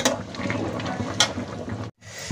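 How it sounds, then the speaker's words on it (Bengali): Hot water being poured into a pan of cooked-down chicken curry: a close, steady splashing gush of liquid, with a brief sharp gap of silence near the end before the pouring resumes. "চিকেন কষানো শেষে দিয়ে দিচ্ছি গরম জল।"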